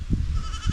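Goats at a farm pen bleat nearby, two short wavering calls a fraction of a second apart over low background noise.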